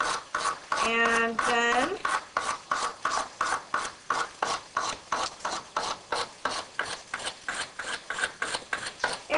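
A tool is polished with rhythmic strokes on the soft side of a sharpening stone: even, close rasping rubs repeat about twice a second, and a voice speaks briefly near the start.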